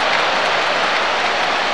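Broad, steady applause from a stadium crowd at a soccer match, a loud continuous hiss of many hands with no distinct individual claps.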